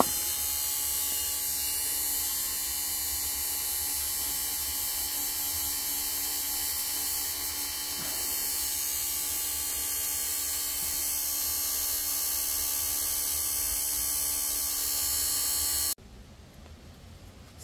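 A cleaned Toyota MMT transmission actuator motor runs continuously, a steady electric buzzing whine with a fixed hum, fairly loud and unbroken until it stops abruptly near the end.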